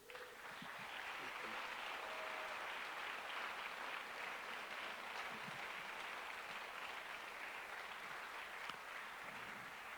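A church congregation applauding during a sermon, steady broad clapping heard at a distance and fairly faint, continuing unbroken throughout.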